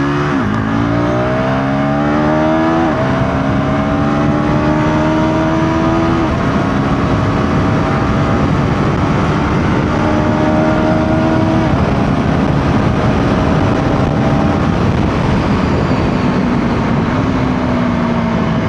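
A KTM Duke 350 motorcycle revs up hard on an empty road, its engine note climbing through several gear changes in a loud, continuous run with no talk.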